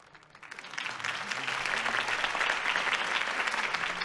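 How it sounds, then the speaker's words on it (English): Crowd applause after a campaign speech in a Batman Telltale Series video game, starting quietly then swelling into sustained, dense clapping and cheering that holds steady for several seconds with no talk over it. "If only Mr. Wayne, my campaign's largest backer, could have heard that applause"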